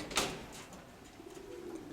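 Pigeons cooing softly in the distance, a faint low rolling coo repeating toward the end, with a brief rustle or knock near the start and no talking.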